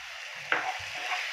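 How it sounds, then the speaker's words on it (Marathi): Tomatoes with a pinch of salt sautéing in a pan over a high gas flame, a soft steady sizzle with a few brief stirring scrapes and clinks close by. "चांगलं मोठ्या गॅसवरती परतवते मी"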